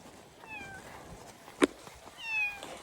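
A rescued cat named Muning meows twice on a slippery road, with a short sharp knock between the calls and faint voices in the background.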